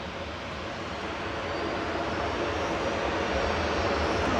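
A Ryanair jet departs for Brussels, its engines a broad, steady roar that swells gradually and stays loud and continuous throughout, with no voices over it.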